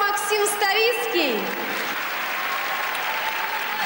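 Audience applause fills an ice skating show arena, steady and dense throughout, with a commentator's voice briefly heard over it at the start.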